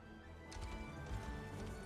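Horse hooves clip-clopping in the Unicorn Overlord video game, a short run of soft rhythmic steps over a low rumble.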